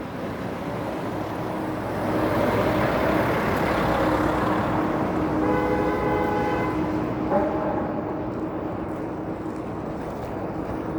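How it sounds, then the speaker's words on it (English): A car horn honks in damp winter street traffic on Yonge Street in Toronto. The horn sounds for a couple of seconds midway over a steady wash of road and traffic noise. "That's why you heard that honk."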